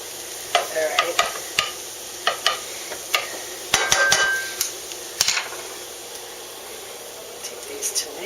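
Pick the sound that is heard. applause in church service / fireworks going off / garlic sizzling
garlic sizzling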